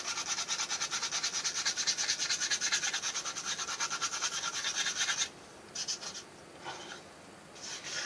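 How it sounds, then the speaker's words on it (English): A stiff-bristle brush scrubs oil paint over a salt-textured rusted-metal model, a fast steady rasping for about five seconds, then a few short separate strokes, close and fairly quiet. "Come in here, scrub a little bit."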